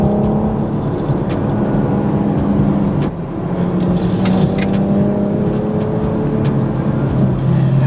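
A 2021 BMW M440i with all-wheel drive cruising on the road, its steady engine hum and tire roar continuous and fairly loud from inside the cabin, with no talking.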